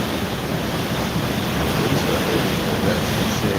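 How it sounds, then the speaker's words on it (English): A strong typhoon wind blows by the sea in Ulsan, South Korea, a loud, continuous roar of gusts buffeting the microphone alongside crashing surf, with no talk. "It's really windy."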